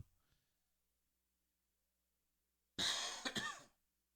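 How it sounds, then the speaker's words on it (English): A single burst of harsh, close coughing, two or three rapid hacks, following a few seconds of near silence. "Sorry, guys, with this coughing."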